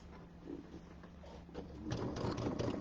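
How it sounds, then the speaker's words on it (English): A sewing machine stitches through pinned fabric with a steady mechanical whir that picks up and grows louder partway through, heard close and alone without talk. "Always drop your needle before you start sewing."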